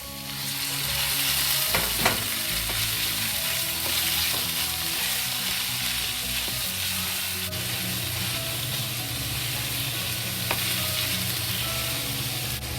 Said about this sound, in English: slowly fry until the fat in the ground meat come out